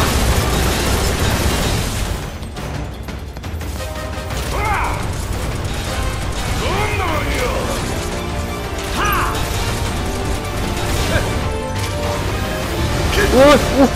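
Gunfire and explosions from the Final Fantasy VII Remake video game form a dense, continuous barrage of bursts, booms and mechanical clatter mixed with game music, loud throughout.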